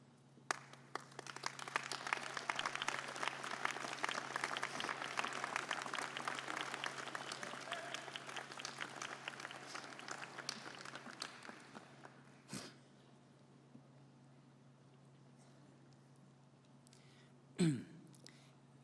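A graduation audience at a law school commencement bursts into sustained applause, dense clapping for about twelve seconds before fading, followed by quieter room sounds and a couple of sharp knocks.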